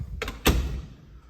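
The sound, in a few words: closet door closing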